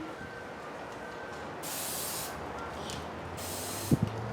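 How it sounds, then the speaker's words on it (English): Two short bursts of hissing spray from a spray can, close by, used on bat wing webbing, with a brief pause between them and a faint clack at the end. "I'm gonna go ahead and spray."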